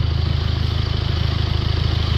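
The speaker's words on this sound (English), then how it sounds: "So the engine just sounds very rumbly, heavy breathing." A Jaguar E-Pace 2.0 diesel engine with DPF and EGR faults idles with a steady, rumbly low throb, loud and close, pulsing evenly without any talking.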